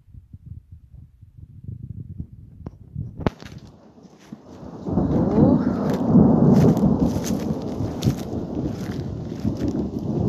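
Thunder in a late-summer rainstorm near Voronezh: a sharp crack early on, then a deep, loud, sustained rumble rolling over the steady hiss of rain.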